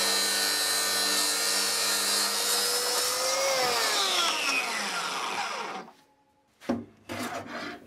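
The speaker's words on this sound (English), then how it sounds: "This is end grain planing and it's a great way to test the sharpness of your blade" A hand plane shaves the end grain of a walnut box cover with a long, loud, rasping scrape that carries on for several seconds. Then comes a brief pause, followed by a few shorter scraping strokes nearby.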